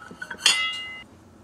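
A cheese plate knocks against other dishes while being packed, giving a single sharp ceramic clink that rings briefly after a few softer taps, close and alone.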